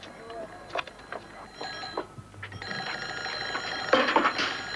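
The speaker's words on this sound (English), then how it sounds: "The telephone's ringing." An old telephone bell rings in repeated bursts inside a room, heard moderately close, with a voice speaking between and over the rings.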